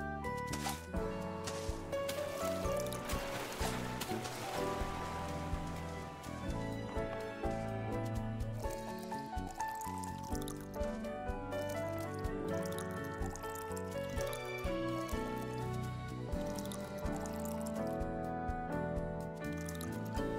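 Water being poured onto plants in the farming game Snacko: soft dripping, trickling sounds over a steady bed of game music, with no talking.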